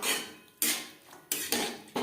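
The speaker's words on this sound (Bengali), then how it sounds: "2-3 মিনিট মুগ ডাল মটরশুঁটির সাথে নাড়াচাড়া করে নেব।" A metal spoon scrapes and knocks in a pan while moong dal is stirred with peas. Four bursts of clanking scraping come at uneven intervals, close by and fairly loud, with no voices.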